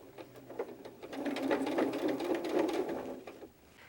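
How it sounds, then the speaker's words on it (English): A sewing machine runs steadily for about three seconds, stitching the arm of a fabric doll in place, its rapid mechanical whir loud and close with no talking. "When you're done sewing this arm in place, sew the other arm in place as well."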